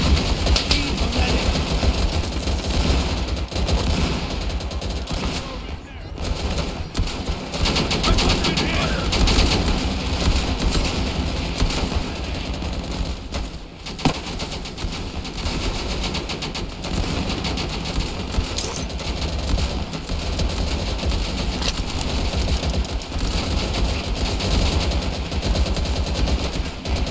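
Machine-gun covering fire rattles nonstop through a World War II Battle of the Bulge fight in Easy Red 2, loud dense bursts layered with other gunfire, engine rumble and speech throughout.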